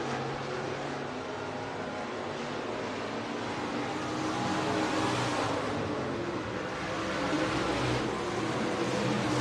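Stock cars racing at Buena Vista Raceway, a continuous broad engine roar from the field that swells and fades as cars sweep past, heard from a distance without talk.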